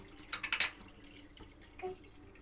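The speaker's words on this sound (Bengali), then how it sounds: "ওই কড়াতে এবার 500 দুধ আমি ঢেলে দিচ্ছি" About 500 ml of milk is poured into a kadai pan for potato payesh, giving a brief burst of soft splashing and dripping near the start, then a faint drip, quiet and close.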